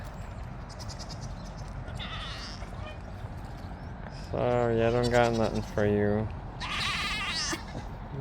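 Sheep at a farm area by a creamery bleat loudly and close, several distinct wavering calls in quick succession, with a person speaking briefly just before them.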